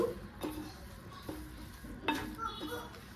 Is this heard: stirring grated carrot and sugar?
yes